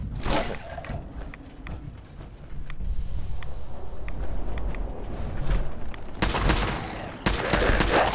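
Pipe weapon gunfire in the Fallout 4 video game, heard as a few sharp shots over busy game noise, with a dense burst of firing near the end.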